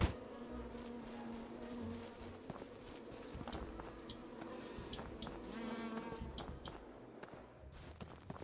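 Continuous insect buzz of bees in the fantasy game Swords 'n Magic and Stuff, a steady drone with a high whine throughout, mixed with soft game footsteps and ambient noise, no talking.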